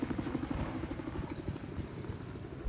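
Helicopter in the video game Battlefield 4, a low, steady rotor thump pulsing rapidly and fairly faint in the background, continuing throughout.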